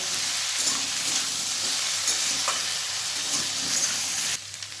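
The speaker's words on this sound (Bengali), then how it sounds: "জিরে আদা বাটা দিয়ে একটু ভালোভাবে কষিয়ে নিতে হবে।" Cumin and ginger paste fries in a pan, a constant close sizzle with stirring scrapes, cutting quieter just before the end.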